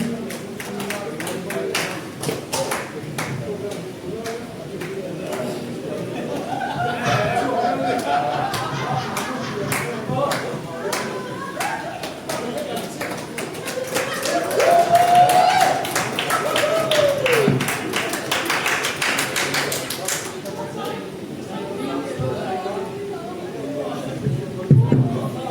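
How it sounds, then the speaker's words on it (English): Audience applause fills a dealers' awards ceremony in the Andaman and Nicobar Islands, a steady wash of clapping with crowd chatter that swells midway and holds for over twenty seconds. "Please give a big round of applause for him."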